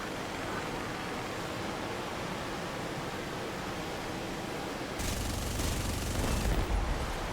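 Aircraft cannons in War Thunder open fire in a rapid rattling burst after several seconds of steady jet-engine rush, the firing loud and close over the constant noise.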